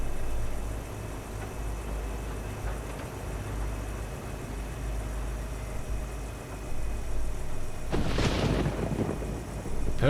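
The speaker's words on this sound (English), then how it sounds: "if we get thunder and lightning again" Rolling thunder during a storm in the American Truck Simulator video game: a steady low rumble with rain-like hiss throughout, swelling into a louder, brighter crash near the end, with no talk.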